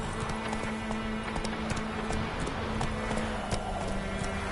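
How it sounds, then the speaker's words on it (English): Horse hooves clip-clop steadily at a moderate pace during riding in a PS4 video game, with the rhythmic clopping sitting over a dense background soundscape. "Whoa there, Roach"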